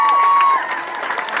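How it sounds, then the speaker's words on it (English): An indoor audience at a family presentation gives a short round of applause, scattered claps and light crowd noise following a brief tone, at moderate distance. "And just a round of applause for her there."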